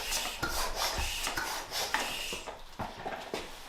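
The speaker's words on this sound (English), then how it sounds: "Now I can re-inflate the tire." A tubeless mountain bike tire is re-inflated with a close, loud, rasping rush of air. Faint rhythmic pulses run through the steady hiss.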